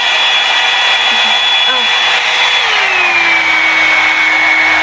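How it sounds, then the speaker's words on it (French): Hot air brush dryer running on its cold setting, a steady loud whirring blow with a motor tone that drops slightly in pitch partway through, close up and continuous with no talk. "je vais déjà l'allumer pour vous montrer les trois différents types de chauffe et le bruit que ça fait"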